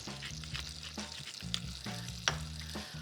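Minced garlic, salt and black pepper sizzle steadily in butter in a skillet, a close, continuous frying hiss with a few sharp crackles and low clatter from stirring, no voices.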